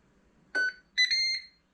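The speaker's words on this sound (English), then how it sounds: "20 minutes time we'll get a beep" A Ninja Foodi air fryer timer gives two short electronic beeps, the second longer and tonal, close and clear against a quiet background.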